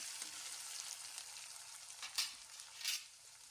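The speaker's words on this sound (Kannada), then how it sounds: "ಇದನ್ನು ಕಲಸ್ಕೋಬೇಕು ಟೊಮೊಟೊ ಸಾಫ್ಟ್ ಆಗೋ ತನಕ ಬೇಯಿಸ್ಕೋಬೇಕು ಇದನ್ನು" Tomatoes with salt stirred and cooked in a pan, with a steady close sizzle and a couple of brief stirring scrapes.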